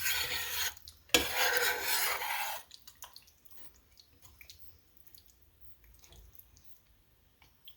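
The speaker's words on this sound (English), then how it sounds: "I'm going to just saw another bone." Saw rasping through a rib bone while country ribs are prepared, a loud burst of steady back-and-forth cutting for about two seconds, then quiet handling noises.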